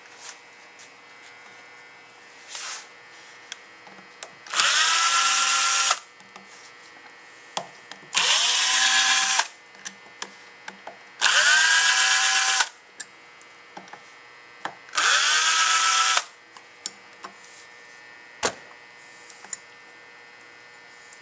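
A power drill takes four screws out of an AC marine dual diaphragm pump. It gives four separate whirring bursts of about a second each, spaced a few seconds apart, with small clicks and handling noises between them and no talking.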